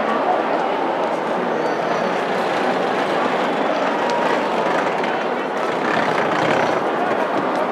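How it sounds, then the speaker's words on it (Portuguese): High-speed bullet train running between Beijing and Hangzhou, heard from inside as a steady, loud rumble and rushing hum throughout, with faint clatter and soft voices murmuring in the cabin. "Bullet Train, é como se chama, é o comboio de alta velocidade."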